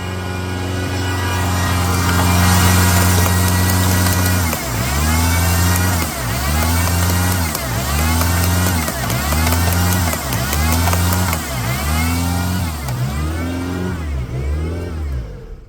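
A Peugeot 206 1.1/1.4 engine, newly fitted with a crank sensor, cranks and catches, then runs in a loud, close, rhythmic uneven surge, revving up and down in repeated waves.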